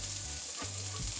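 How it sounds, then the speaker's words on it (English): A whole shallot sizzles in hot oil in a pan, a steady close frying hiss that lasts the whole short moment with no talking. "I got a hot pan with some oil in it, and I'm just gonna go in with one whole shallot"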